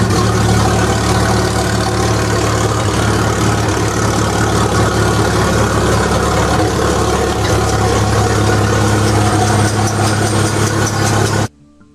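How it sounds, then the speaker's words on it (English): A tractor engine drives a huge belt-driven air compressor, building pressure to start a large engine called Big Bertha; a loud, steady, close mechanical drone with a low hum runs unbroken, then cuts off abruptly at the very end. "The tractor and the belt on the tractor runs a huge air compressor"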